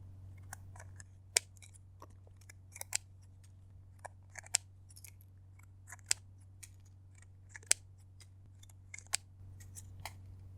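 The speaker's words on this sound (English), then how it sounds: "I have a pair of scissors" Scissors snip repeatedly in short, crisp cuts through a card, irregularly spaced, close up against a quiet low hum.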